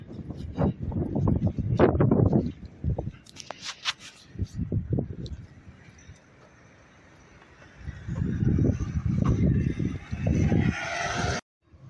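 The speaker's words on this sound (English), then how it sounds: "Plenty of wind up here for the Union flag today." Wind gusting across a microphone on a high viewpoint over St Helier, Jersey: loud buffeting rumbles in uneven surges, dropping to a quieter whoosh between gusts before cutting off.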